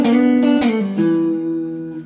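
A blues lick on guitar: a few plucked notes and a bend, ringing clearly and close, then a final note left to sustain and fade, played alone without talk.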